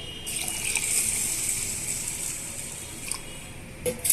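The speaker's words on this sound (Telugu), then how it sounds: "ఇప్పుడు ఇందులోనే మనము మంచినీళ్ళు పోసి" Drinking water poured into a bowl of washed urad dal and rice, a steady splashing gush running nearly the whole time, close and fairly loud, with a few small clinks near the end.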